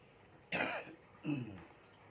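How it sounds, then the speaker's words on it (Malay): Two short coughs, the first sharper and harsher, the second a lower, throatier hack, close by in a quiet room. "Batuk kan?"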